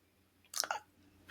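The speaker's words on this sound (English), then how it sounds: "It's crunchy and tastes like ice cream." Crunchy food that tastes like ice cream is chewed up close: one short burst of crisp crunching bites, followed by a quieter crunch a moment later.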